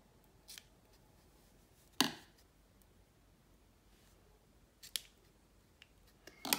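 Scissors snip through a yarn pom-pom, giving it a trim: a few sharp, close cuts spaced apart with quiet pauses between them, and no talking.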